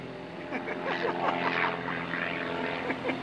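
An Extra 230 aerobatic propeller plane flies a display in the distance, its engine giving a fairly faint, wavering drone. A voice commentates over it throughout.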